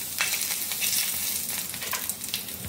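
Eggs with turmeric sizzle steadily in hot oil in a kadai, a close, continuous crackling fry with small popping bursts throughout.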